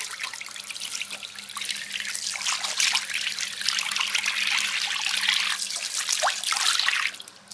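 Tap water runs steadily into a sink while face cleanser is rinsed off, a continuous splashing hiss with small shifts in flow and a few drips, close and alone until it cuts off at the end.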